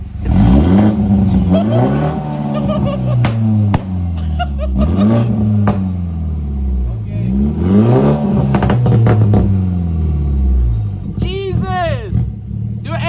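A BMW B48 engine fitted with an AWE quad touring exhaust and no muffler revs hard in repeated loud, close rising and falling pulls, with people talking over and between the revs.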